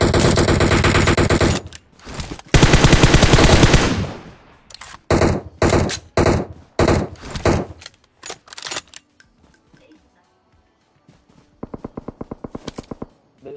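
Loud, rapid video game gunfire in a first-person shooter, long sustained bursts followed by a string of separate shots and short volleys, with a lighter run of shots near the end.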